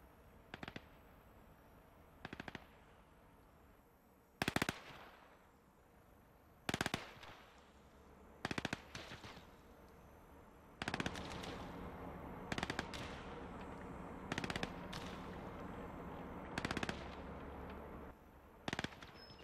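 Machine gun fire in the WWII strategy game Gates of Hell comes in repeated short bursts, sharp and fairly distant, spaced a second or two apart over a low, quiet battlefield background.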